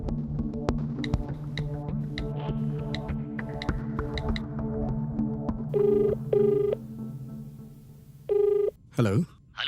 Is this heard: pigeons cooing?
no